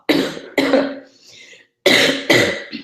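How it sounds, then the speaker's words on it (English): Several harsh, loud coughs close up, coming in pairs with a short breathy pause between them. "I've got the worst cough."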